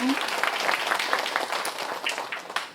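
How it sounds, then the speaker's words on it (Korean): Audience applause at a Gyeongsangnam-do care workers' support centre event, a crowd clapping steadily and fairly close with a faint voice at the start, fading slightly toward the end. "큰 박수 부탁드리겠습니다"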